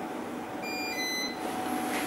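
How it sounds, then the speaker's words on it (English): Two short high electronic beeps from a Pyronix Euro 46 alarm panel confirming the system is set, one after the other, over a steady background hiss. "you'll get a beep to confirm the set"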